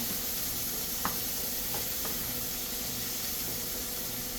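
Aromatics and tomato browning in a pan for an ampalaya with egg dish: a steady, close sizzle with a few soft clinks of stirring.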